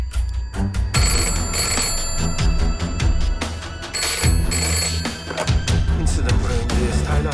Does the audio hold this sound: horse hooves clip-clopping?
no